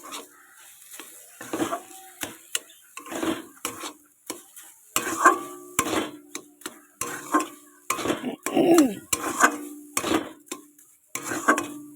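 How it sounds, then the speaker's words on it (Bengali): Carrot laddu mixture being stirred in a pan, a rhythmic run of scraping spoon strokes against the metal, close and repeated every half second or so, with a faint sizzle underneath and no talking. "এবার এটাকে আমি সুন্দর করে নাড়বো"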